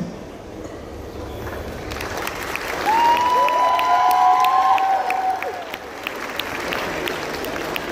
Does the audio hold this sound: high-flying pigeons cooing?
no